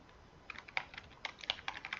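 Computer keyboard typing R code, a quiet run of separate key clicks in an uneven rhythm with brief pauses, close by and alone with no talk.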